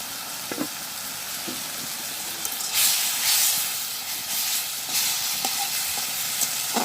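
Malabar spinach leaves frying in a pan in a village kitchen, a close, steady hissing sizzle with bursts of steam and occasional light stirring taps, heard alone without speech.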